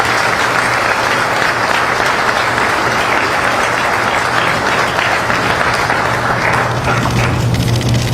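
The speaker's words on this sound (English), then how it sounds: "A big round of applause, please." A crowd applauds steadily at a military exercise ceremony, dense sustained clapping at full loudness for the whole stretch, with no talking over it.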